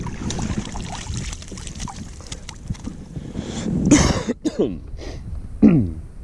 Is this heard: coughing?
yes